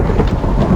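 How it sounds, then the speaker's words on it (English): A thunderstorm in the video game Minecraft, a loud low rumble of thunder washing over steady rain noise, short and without any talk. "Another thunderstorm."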